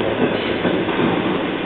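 Train ride toward Zürich in Switzerland: a steady, close rumble of the rolling railcar with faint clickety-clack fills the interior continuously, with no voices.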